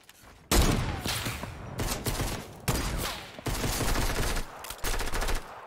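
Fortnite gunfire comes in several loud, sharp bursts separated by short gaps, close and punchy, with no voices over it.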